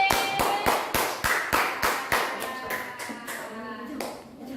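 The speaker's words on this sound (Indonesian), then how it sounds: "Tepuk tangan untuk kelompok D." Classroom applause for a student group, heard as a rhythmic series of sharp, evenly spaced claps in unison that grows looser and softer toward the end, with faint voices underneath.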